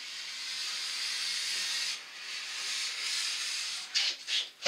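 A plastic scraper draws long passes down a ski, peeling off wax in a steady, close hiss of scraping that breaks into a few shorter strokes near the end.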